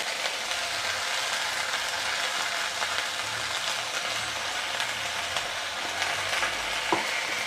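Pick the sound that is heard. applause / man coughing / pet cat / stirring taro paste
stirring taro paste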